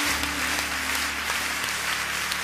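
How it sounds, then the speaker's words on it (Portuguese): Live crowd applause at a Catholic worship gathering led by a priest, steady clapping across the whole stretch with some background tones and hum. "E aplauda mesmo a palavra de Deus"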